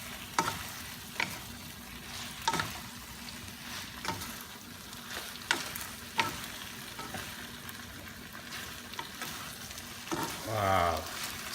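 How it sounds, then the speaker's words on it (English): Mongolian beef stir-frying with green scallions in a pan, a steady sizzle punctuated by regular scraping and clanking stirs, close and moderately quiet. "we're gonna put our scallion, the green part, and give it a good mix"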